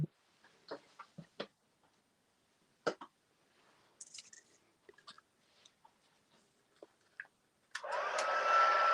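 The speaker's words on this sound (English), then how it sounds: "And I'll just quickly heat set that as well." Handheld heat tool warming embossing powder on a stamped card, a steady loud whooshing blast that switches on near the end after scattered handling clicks and taps.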